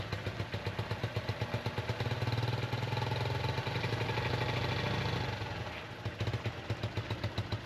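A Bajaj Dominar motorcycle engine idles close by while warming up, with a rapid, uneven putter, swelling briefly louder in the middle before settling back to a steady chug.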